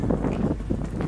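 Gusty wind buffeting the microphone on the side of Otamahua/Quail Island by the dock, a low rumbling roar throughout with uneven bursts.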